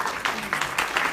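Short burst of audience applause at a morning filmmakers' talk event, brief uneven clapping with a few louder surges, fairly close and without speech over it.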